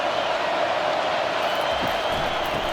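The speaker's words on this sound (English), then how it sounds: "This crowd trying to make life miserable for this offense." A football stadium crowd at a Northwestern vs. Michigan game roars as a steady, loud, dense wash of noise with no single voices standing out.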